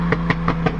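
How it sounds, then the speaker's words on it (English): A car engine backfires in a quick run of four sharp pops, evenly spaced within a second, over the steady drone of the running engine. "Listen to that backfire."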